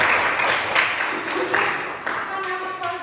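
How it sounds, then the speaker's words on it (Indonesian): Classroom applause for a student group presenting a cassava tape biotechnology project, a continuous wash of clapping from a room of people, with some voices mixed in. "berikan tepuk tangan untuk kelompok 3"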